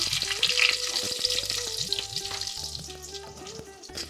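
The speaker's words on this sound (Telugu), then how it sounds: "ఆయిల్ వేడెక్కాక ఇందులో అయితే సన్నగా తరిగి పెట్టుకున్న ఆనియన్స్ అయితే ఇందులో వేస్తున్నాను" Thinly sliced onions frying in hot oil for a vegetable biryani crackle and sizzle loudly and steadily, with scraping and clinking as they are stirred.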